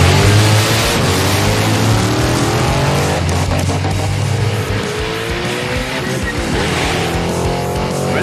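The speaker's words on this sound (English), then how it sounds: "And the Ute found the rev limiter." A Pursuit Ute drag racing engine roars loud and close, holding a harsh, high-revving drone at the rev limiter with a brief dip partway through and steady broadband mechanical noise.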